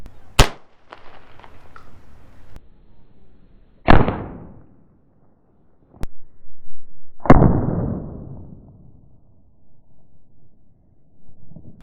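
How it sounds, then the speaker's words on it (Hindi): A pellet-loaded blank attachment fitted to the front of an air rifle fires several sharp, very loud cracks, each decaying into a roaring echo, with quiet gaps between shots. "सो ये एयर राइफल के सामने लग जाता है, एंड इसके बाद अपन को पैलेट लोड करके चलाना है।"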